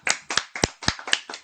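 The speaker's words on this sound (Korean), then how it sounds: "박수로 환영해 주십시오." About six distinct, evenly spaced hand claps ring out at a seminar welcoming a business professor to the stage, crisp and close, with a short pause after each clap.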